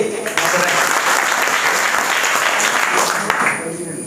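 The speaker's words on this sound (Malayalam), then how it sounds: "ഒന്ന് കൈയടിച്ചേ" An audience at a motivational class claps together in a sustained burst of dense applause that holds for several seconds before tapering off, loud and close.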